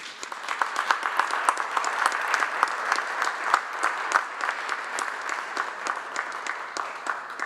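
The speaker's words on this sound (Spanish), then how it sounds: "Despidamos a nuestras autoridades con un fuerte aplauso" Audience applause at a Mexican presidential morning press conference, a steady, dense clatter of many hands clapping that holds at even strength throughout, with no talk over it.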